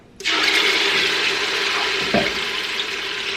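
Loud hissing sizzle bursts in after a brief quiet moment as a pepper mixture is added to a pot for Nigerian beef stew, continuing steadily, with a faint stirring clank midway.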